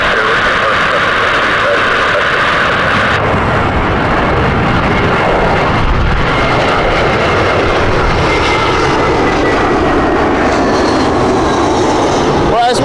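Royal Jordanian airliner landing on runway 27 left at Heathrow in strong crosswinds, a loud continuous jet engine roar that swells and shifts over the whole stretch, heard outdoors with wind buffeting.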